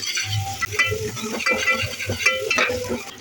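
Onion frying in a pan until reddish, with repeated stirring scrapes and clatter over a continuous sizzle, fairly close and loud.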